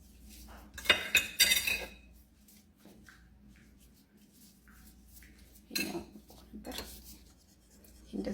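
A spoon clinks and scrapes against a dish while mixing a salad, in two short bursts of clattering separated by quieter stirring and rubbing, close and fairly faint.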